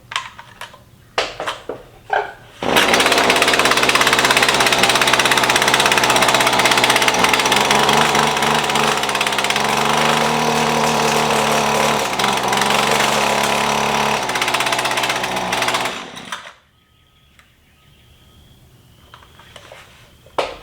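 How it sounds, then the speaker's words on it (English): A brand-new Husqvarna 128LD string trimmer starting for the first time: a few sputtering pulls, then a loud, rough two-stroke engine roar running for about fourteen seconds before cutting out, leaving faint clicks and handling noises. "we'll keep giving it some gas until it gets gas all the way through the engine"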